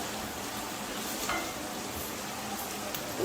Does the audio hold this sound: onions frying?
yes